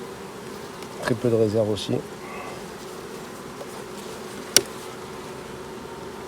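Honeybees buzz in short, close bursts around an opened hive during a late-season colony inspection before wintering, followed by a sharp click, with a brief spoken remark from the beekeeper.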